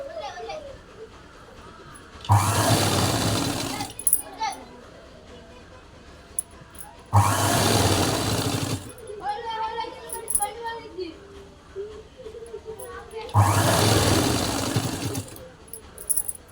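A sewing machine stitches piping on a blouse in three short bursts of close, whirring runs, separated by pauses where someone talks and faint background noise is heard.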